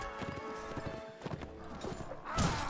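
Horse hoofbeats clip-clop in a steady rhythm while riding in the medieval combat game Mount and Blade Warband multiplayer, with a horse whinny and game clatter mixed in and a louder burst near the end.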